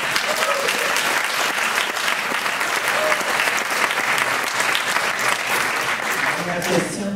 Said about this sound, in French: donc on t'applaudit